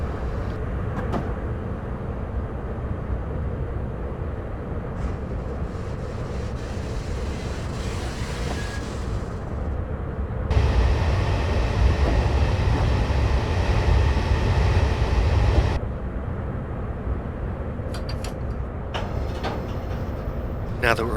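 A steady low rumble of a simulated HST train engine in Train Simulator 2015 runs throughout, growing louder in the middle section before settling back to a constant drone as power is shut off to coast.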